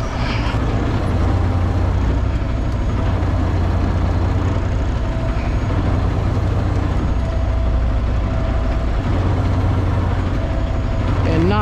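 A truck's engine idles with a steady low rumble as the driver maneuvers it tightly around poles, running continuously and fairly loud throughout.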